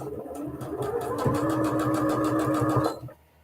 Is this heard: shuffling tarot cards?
no